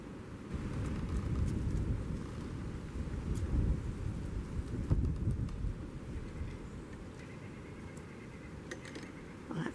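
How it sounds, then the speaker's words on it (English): An outdoor thunderstorm with steady rain and deep rolling thunder rumbling continuously at moderate, distant loudness, with faint gusty wind and no talk. "Oh, I hear the wind picking up."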